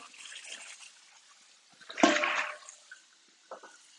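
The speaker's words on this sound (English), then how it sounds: "I'm going to be washing dishes. And I do apologize that the water is so loud" Water splashes and runs from a tap in a burst, with quieter trickling and clinks before and after; no talking.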